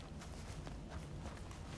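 Horse hooves clip-clopping on the ground in a western open-world game, a quiet and steady patter of steps under low background ambience.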